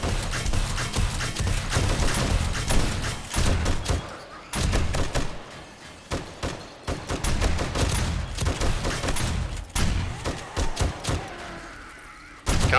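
SMG gunfire in the 7 Days To Die Alpha 18 video game, loud dense bursts of rapid shots with brief gaps for reloading, continuing almost throughout.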